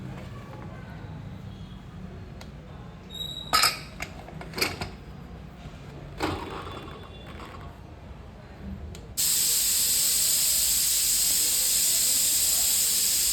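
A pressure cooker of dal rice pulao on the stove: first some lid clatter and knocks with a voice, then a sudden loud, continuous steam hiss that holds steady through the last few seconds.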